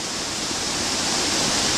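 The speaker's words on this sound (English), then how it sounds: "And a waterfall" Steady, broad rushing roar of a waterfall, loud and constant throughout with no voices.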